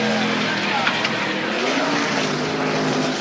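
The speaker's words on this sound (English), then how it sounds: "The race starts with a pace car leading the cars around the track to warm up the engines and transmissions" NASCAR race cars circle a track behind a pace car, a sustained, droning engine roar of several cars blending together at a steady level, with no sharp passes or gaps.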